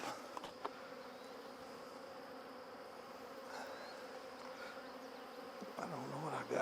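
Steady, quiet honeybee buzzing hums throughout as brood frames are handled at a hive, a soft droning swarm with a few faint knocks and handling noises.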